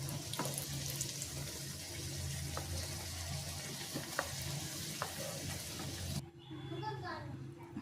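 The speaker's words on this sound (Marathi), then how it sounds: "ह्या घाऱ्या या पद्धतीनं आपण तळून घ्यायच्या।" Sweet potato gharya fry in hot oil with a loud, steady sizzle and bubbling. Occasional clinks of a utensil cut through, and near the end the frying drops away under a brief burst of running water.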